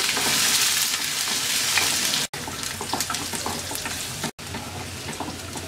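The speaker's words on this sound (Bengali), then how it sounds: "পেঁয়াজটা হালকা ভেজে নেব" Chopped onions from two medium onions fry lightly in oil with whole cumin and radhuni seeds, a steady close sizzle with stirring scrapes running throughout, broken by two brief silent cuts.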